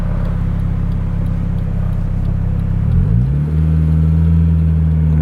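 Widebody Honda Civic on 200-treadwear tires pulling hard under acceleration, a loud close engine drone that holds steady, dips at a gear change around three seconds, then climbs again at higher pitch to the end.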